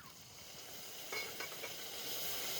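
Spice-rinse water poured into a pan of frying ginger, garlic and onion with dried chilli and pepper paste: a soft, steady sizzle that flares into brief hissing spurts partway through, quiet and close.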